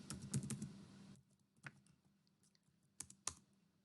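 Clattering keystrokes on a computer keyboard as a password is entered, a quick burst of taps followed by a few isolated, sharper clicks against a quiet room.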